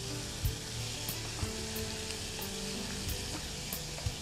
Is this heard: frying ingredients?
yes